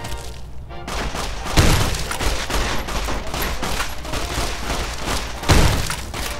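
Gunfire rings out in the video game Fallout: New Vegas, with rapid bursts of shots and two heavy booming impacts standing out over a dense, loud clatter of combat noise.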